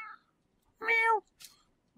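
A single clear cat meow from a Minecraft pet cat, short and fairly close, with a softer brief chirp just after in otherwise quiet surroundings.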